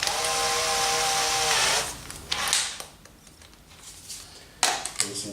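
A drill driving screws to attach the legs of a wedging table, a steady whirring burst for under two seconds, then a few short, quieter bursts of driving and handling noise.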